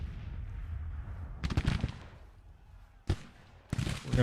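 Battle sounds from the Civil War strategy game Grand Tactician: a low rumble, then three separate bursts of gunfire and artillery, the loudest at the end.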